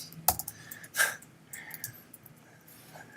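Keystrokes on a computer keyboard during a coding session, a few sharp separate clicks, the loudest two near the start, with quieter ticks trailing off in a quiet room.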